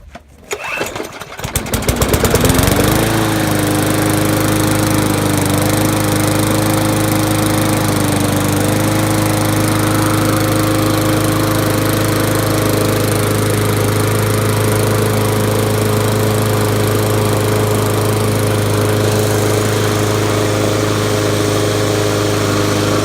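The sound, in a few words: push lawn mower engine starting and running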